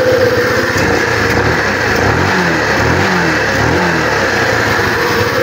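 A Honda Wave 125 motorcycle engine runs steadily at close range after its carburetor air-fuel mixture is tuned to 2 and 1/4 turns, a loud continuous putter with slight rhythmic rises in pitch and no voices over it.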